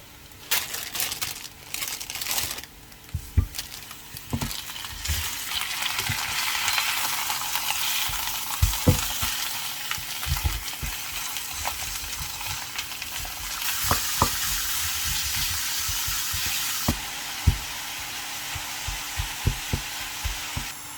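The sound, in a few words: steaks frying with browning onions in a pan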